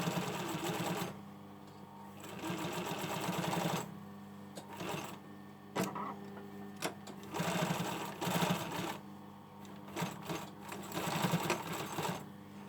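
A sewing machine topstitches a patch pocket onto a hoodie front, running in loud, close bursts of rapid mechanical stitching separated by brief pauses.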